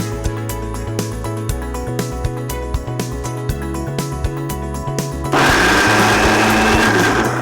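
A kitchen blender coarsely grinds sweet corn for sweet corn vadalu. Rhythmic music plays first, then the motor cuts in abruptly near the end with a loud, steady whirring roar.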